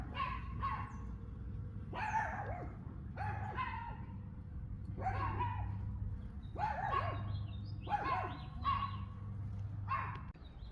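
A dog in a backyard barks repeatedly in short, evenly spaced bursts, clear and fairly close, with no talking over the steady low hum of the surroundings.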